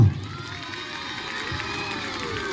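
A school audience cheers and shouts with children's voices during a mimicry show, a dense, steady crowd roar lasting the whole stretch with no clear individual claps.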